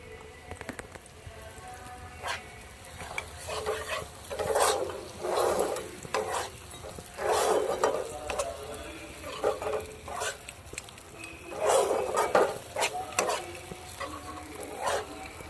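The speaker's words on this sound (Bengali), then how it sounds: "মশলার গায়ে যতক্ষণ না তেল ছাড়ছে ততক্ষণ একটু নাড়াচাড়া করে নেব" Ground cumin and chilli paste fries in oil for a banana-flower kofta curry, stirred in repeated scraping bursts over a steady background sizzle.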